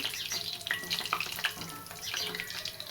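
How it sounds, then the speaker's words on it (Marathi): Bottle gourd koftas deep-fry in oil over a medium flame, giving a close, bubbling crackle with irregular pops and spitting bursts throughout. "त्याच्यामुळं गॅस मिडियम गॅसवरतीच तळून घ्यायचं त्याला जास्ती गॅस फास्ट बघा मस्त असं तळले कोपते"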